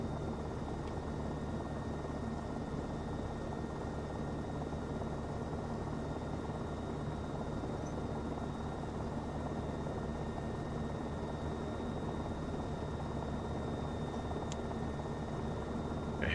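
A helicopter flies in a flight simulator, a steady dense rotor and engine roar holding constant and unbroken throughout, with no voices.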